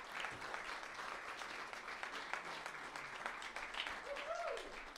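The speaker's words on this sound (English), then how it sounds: "Can we give Lee, Ian, and Victoria a big round of applause?" Audience applause at a launch event at the Mount Hotel, a steady, fairly soft wash of clapping from a crowd lasting throughout, with a few faint voices and whoops mixed in.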